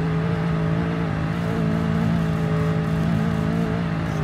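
A big truck engine in the video game Roblox Greenville drones steadily with a deep, continuous rumble, holding a constant pitch throughout with no voices.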